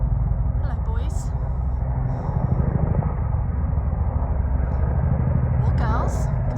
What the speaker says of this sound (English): Oh, it's Chinook. There's 3 military helicopters coming.